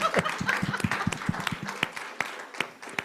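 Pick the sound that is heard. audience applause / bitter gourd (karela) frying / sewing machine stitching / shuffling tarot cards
audience applause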